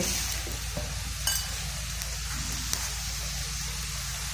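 Dried fish frying with onion and ginger-garlic paste in a pan gives a steady, close hiss and sizzle with occasional light scraping clicks from stirring, continuous and moderately loud with no speech.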